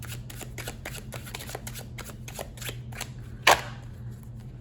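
A deck of slippery tarot cards being shuffled in quick riffling bursts, with a louder sharp snap near the end against a low steady hum.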